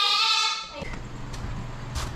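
A goat gives one loud, wavering bleat close by at the start, followed by quieter indoor background noise.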